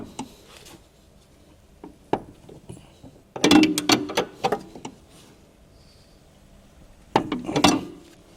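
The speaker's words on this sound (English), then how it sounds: "Then use a 17mm wrench with a breaker bar to tighten the fixed bolts of the upper control arm." A 17mm wrench on a breaker bar tightening the upper control arm bolts on a 2007 Honda CR-V's rear suspension: scattered metallic clicks and ratcheting bursts in two main clusters, close and fairly quiet, with no talk.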